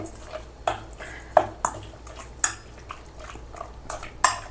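Metal pots and a pressure cooker handled on an electric stove, with a series of sharp clinks and knocks at irregular intervals over a low background hum.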